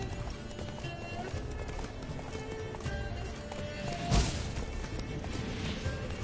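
Roach, the horse in The Witcher 3 video game, gallops with steady rapid clip-clop hoofbeats under continuous game sound, and one sharp loud thump cuts in near the end while voices talk over it.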